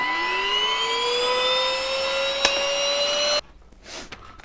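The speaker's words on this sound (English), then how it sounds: "You could try to vacuum." A vacuum cleaner whines steadily and loudly as it pulls dust off a guitar fingerboard on a workbench, its pitch rising slightly before it cuts off abruptly, leaving a quieter room.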